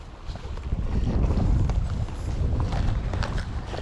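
Strong wind blows at a high mountain lake in the Emigrant Wilderness, a loud, continuous rushing roar buffeting the microphone close up throughout.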